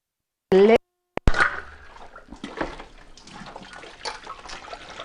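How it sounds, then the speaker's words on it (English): Soap suds being rinsed out of a Thermomix TM6 bowl with tap water: a short beep and clunk, then a steady splashing trickle of running water close by. "now I'm just rinsing out the soap suds from the bowl"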